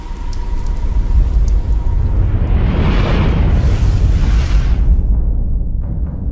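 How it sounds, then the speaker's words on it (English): Steady rain pours down in a dense, loud, continuous hiss that swells through the middle and fades a little toward the end, with no voices. "Even rain."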